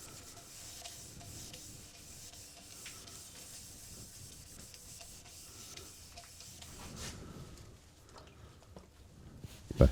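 Oil is rubbed hard into a pin-striped wooden bowl in a steady, quiet rubbing and hissing friction, fairly faint and continuous, ending in a brief louder knock.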